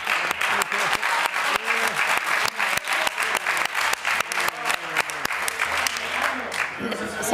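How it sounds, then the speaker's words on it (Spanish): Members of a regional parliament applaud in a plenary session of the Cortes de Aragón, a steady, fairly loud stretch of clapping that runs the full length with scattered voices mixed in. "algunos compañeros de su bancada le aplauden muy flojito"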